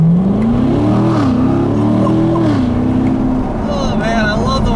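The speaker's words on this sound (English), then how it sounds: "Oh man, I love the way this motor sounds." A 2017 Corvette Grand Sport V8 accelerates hard on wide rear tires, its engine note rising steadily and holding loud and close for several seconds, with someone talking over it.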